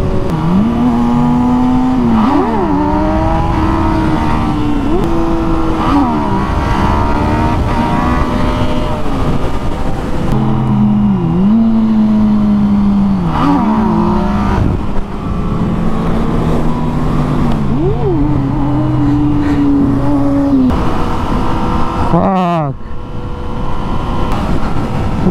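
A Kawasaki ZX6R or Yamaha MT09 motorcycle revs hard during wheelie attempts, engine pitch surging and dropping in repeated loud close bursts with shifting whine over a continuous roar.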